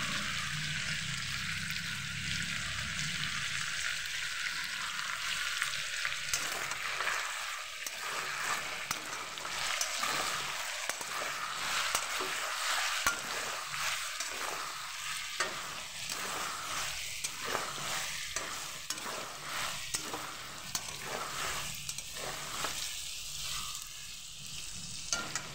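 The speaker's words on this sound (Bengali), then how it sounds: "কিছুক্ষণ চিকেনগুলো ভেজে নেওয়ার পর দিয়ে দেব লবণ" Chicken pieces fry in a pan with a steady, loud sizzle throughout, broken by repeated soft stirring scrapes in an irregular rhythm over the last two-thirds.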